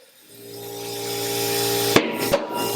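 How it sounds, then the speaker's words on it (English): A motorcycle tire's beads seat over the rim on a Rabaconda or Constands tire changer as air is pumped in, giving two sharp pops about half a second apart over a steady, rising compressor hiss, close and loud, with no talking. "what you'll hear is 2 loud pops, okay? The pops meaning the tire is going over the bead."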